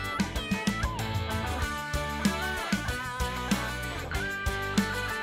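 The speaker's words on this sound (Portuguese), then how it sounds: "e o gato mia." A cat meows several times in a row, clear and close, over a light musical backing.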